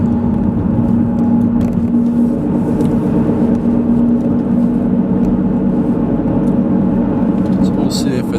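A car driving northbound on I-395 in Washington DC, with steady road and engine rumble and a low tonal hum throughout, continuous and fairly loud, with someone talking over it.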